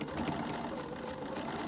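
Sewing machine stitching along the edge of a La Passacaglia star point, a brief close whirring run of rapid needle strokes, alone with no voice.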